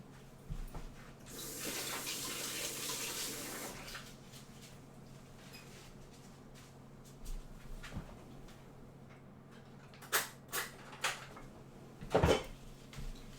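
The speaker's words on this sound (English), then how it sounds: "Quickly rinse my gloves." Gloves are rinsed under a running tap, a close splashing stream lasting a few seconds before it stops, followed by quiet with a few faint knocks and clinks.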